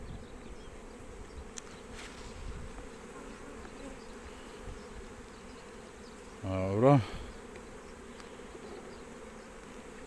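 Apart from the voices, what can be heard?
honeybees buzzing at an opened hive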